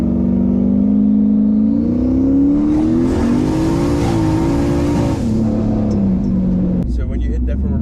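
Turbocharged Pontiac Trans Am running on slicks accelerates hard along a street from a roll, engine note climbing steadily and loud as boost builds, then easing off near the end, with people talking over it.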